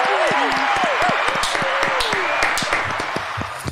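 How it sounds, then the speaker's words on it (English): An audience claps and whoops for a poet at a live-streamed show, with scattered hand claps and rising and falling cheering voices over a steady rush of noise, fading slightly toward the end. "give her a whoop, give her a cheer"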